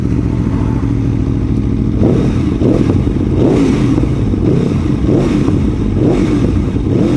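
An Aprilia Tuono Factory V4 1100 engine roars loudly and continuously while being ridden, with throttle swells and surges over a constant rumbling drone.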